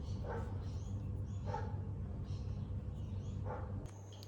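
A neighbour's dog barks outside a home workshop, single barks repeating about once a second, somewhat distant and moderately faint over a low steady hum.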